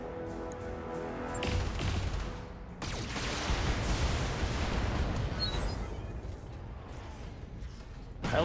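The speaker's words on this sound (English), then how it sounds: "Pilot injured, ammo explosion." Ammunition explosion destroying a mech in the BattleTech video game: a sustained roar of blasts and rumbling debris, a brief drop near three seconds, then a continuous loud burst stretching to the end.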